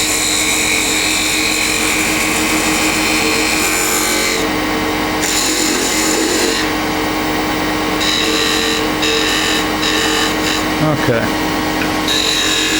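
Lathe turning a bocote wood drop pendant, a continuous loud whir with scraping tool-cut texture on the spinning wood, shifting as the cut changes, with a voice speaking briefly over it.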